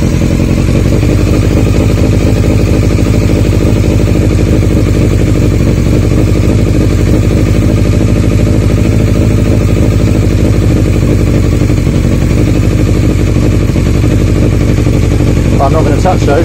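A Yamaha Fazer 600 motorcycle engine idles during carburettor balancing, a loud, close, continuous rumble with a steady clattering pulse from start to end.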